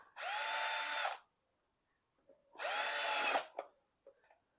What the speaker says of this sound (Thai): นิดเดียวเจาะนิดเดียวเพื่อให้เรามาร์กได้